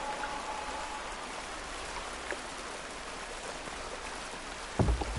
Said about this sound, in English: Ooh, peaceful water.